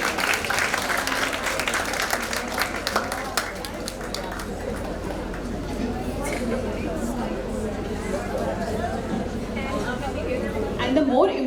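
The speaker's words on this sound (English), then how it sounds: "A big round of applause to all of them." Sustained applause from an audience at a dental college inaugural event, a dense steady wash of clapping and crowd murmur lasting throughout, with voices chattering beneath it.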